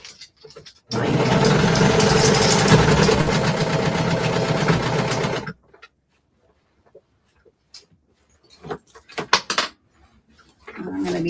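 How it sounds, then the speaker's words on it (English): A serger overlocks the edge of fleece vest fabric, a loud, steady motor whir lasting several seconds before stopping abruptly, followed by quiet, scattered handling clatter. "I'm just gonna be serging this, so it makes it easier to bind it."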